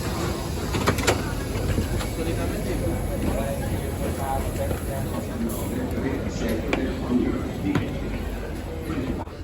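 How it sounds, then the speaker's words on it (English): Trenitalia regional locomotive-hauled train running from Pisa to Florence, a steady interior rumble with occasional clicks and knocks, while a voice talks throughout. "Our train today is operated by Italian national operator Trenitalia."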